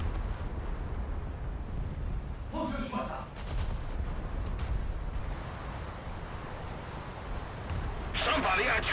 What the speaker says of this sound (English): The 10 16-inch guns.